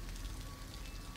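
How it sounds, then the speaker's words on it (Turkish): Steady rain falls in the video game Detroit: Become Human, a continuous soft hiss of drops on surfaces with no voices over it. "burada biraz yağmur düşüyor"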